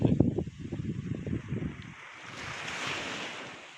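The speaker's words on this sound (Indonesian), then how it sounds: "Kondisi saat ini di Pantai Undi sendiri berangin tetapi cerah" Wind buffets the microphone in gusty low thumps on a breezy beach at Pantai Undi, Indonesia, then gives way to a steady wash of surf.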